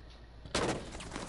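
Video game gunfire shooting through a wall: after a short quiet moment, a sudden loud burst of rapid shots rings out and keeps rattling for about a second, with no talk.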